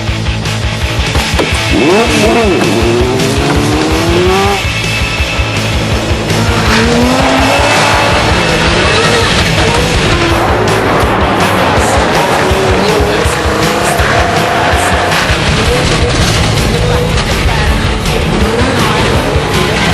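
Car with four-wheel steering and skinny spiked tyres driving hard on ice, heard as a loud, continuous engine roar rising and falling with squealing, skidding tyres throughout.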